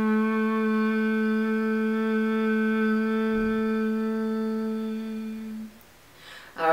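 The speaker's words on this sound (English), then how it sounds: "the seed sound for the throat chakra is ham" A single sustained chanted tone of the syllable "ham" holds steady for several seconds, rich in overtones, then fades away, followed by a brief breath or rustle.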